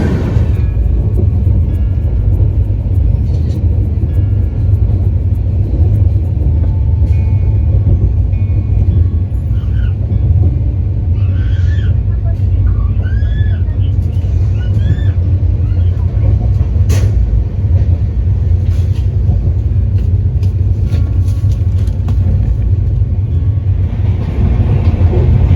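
Duronto Express train running from Mumbai to Howrah, a loud steady rumble of wheels and carriage heard from inside the coach, with faint voices and brief clatters over the continuous roar.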